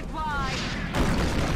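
A rocket detonates in the XCOM strategy game. A short whooshing, tonal build-up gives way to a sudden broad, rumbling blast that stays loud and close to the end, with a voice talking over the start.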